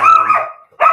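A dog gives two short, close, loud barks separated by a brief gap, with nothing else audible.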